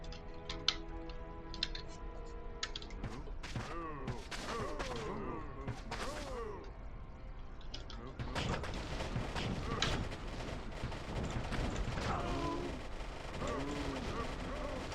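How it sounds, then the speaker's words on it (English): Immolation and freezing arrows striking crowds of monsters in Diablo II, a dense run of crackling, popping impacts and bursts over a constant loud background, with a voice talking throughout. "Let's demonstrate the immolation and freezing arrow in against very crowded areas"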